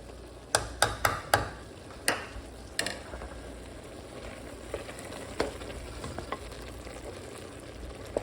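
Tortellini with ground beef, broccoli and Parmesan being stirred in a pan: several sharp utensil clicks and scrapes against the pan early on, then quieter scattered taps over a soft sizzling background.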